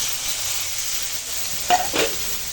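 Spices tempering in hot oil give a steady soft sizzle, with crushed mango dropped in near the end adding a couple of brief, louder splashes of crackle.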